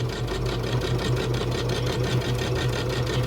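A sewing machine stitching fabric for a mask runs steadily with a fast, even mechanical hum and rapid stitching rhythm, close and continuous with no talking.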